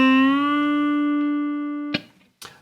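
An electric guitar string is picked and bent upward within a minor pentatonic lick, the clear sustained note gliding to a higher pitch and ringing for nearly two seconds before two short, sharp plucks follow.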